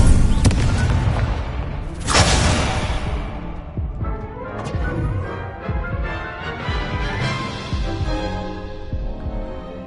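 Fiery Incendio spell blasts in the Hogwarts Legacy game, a loud burst near the start and a bright whooshing blast around two seconds in, followed by crackling, rumbling combat effects with no talking.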